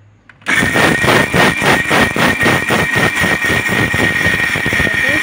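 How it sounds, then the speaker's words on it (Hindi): A kitchen mixer grinder kicks on abruptly and whirs loudly and steadily, grinding soaked rice for Goan patoleo, with a constant high motor whine and rough churning throughout. "अशें करून हांवें आंटून घेवपाचें मिक्सरान"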